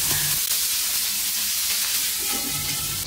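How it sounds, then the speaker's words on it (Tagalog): Pork pieces frying in a pan for a vegetable dish with kangkong, giving a steady, close sizzle of rendering fat that runs throughout with occasional stirring scrapes. "Unahin nating lutuin yung ating pork hanggang sa ito ay magmantika"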